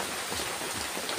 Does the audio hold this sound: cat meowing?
no